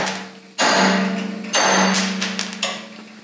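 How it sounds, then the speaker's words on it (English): A hammer strikes hard on a rear axle hub to drive the wheel studs out, with two loud ringing metallic blows about a second apart and a lighter third hit, each decaying with a sustained ring. "this is just about to whack this really hard one time, and they will fly out"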